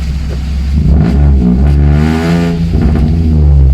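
A Toyota Aygo fitted with a Piper exhaust manifold revs hard under acceleration, a loud, steady engine drone rising and falling in pitch, close and continuous with no talking.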